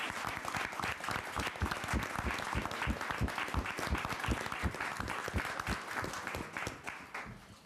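A council meeting audience applauds public library employees, with steady, moderately loud clapping from a room full of people that runs throughout and tapers slightly at the end.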